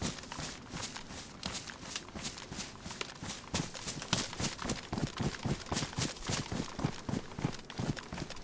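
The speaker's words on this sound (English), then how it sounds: "I just heard his footsteps" Footsteps in a survival video game tap in a fast, steady run, crisp and fairly close, quickening and growing slightly louder toward the end.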